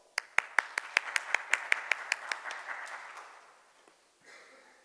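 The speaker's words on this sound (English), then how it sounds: "Verma with a round of applause." A small audience at a seminar session clapping for a speaker, a dozen or so sharp, evenly spaced claps close by that quickly thin out and fade within a few seconds.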